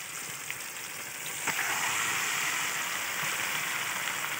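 Mutton pieces hit a pan of fried spice paste and set off a steady, moderately loud sizzle that rises after a brief clatter and then holds evenly.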